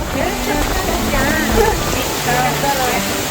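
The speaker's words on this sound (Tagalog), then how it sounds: "Kasi umuulan na." Steady rain pours down in a dense, continuous hiss, with faint voices and other sounds mixed in under it.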